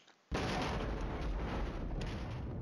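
Counter-battery artillery fire in the wargame Flashpoint Campaigns: Red Storm erupts abruptly after a brief near-silence, then a dense, loud, continuous rumbling barrage of blasts runs to the end.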